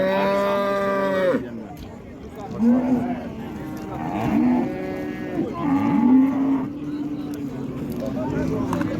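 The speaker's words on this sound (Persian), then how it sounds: "کم کم داریم میریم طرف گوساله ها" Cattle and calves at a busy livestock market in Iran, with several loud close moos rising and falling one after another while someone talks and crowd noise murmurs underneath.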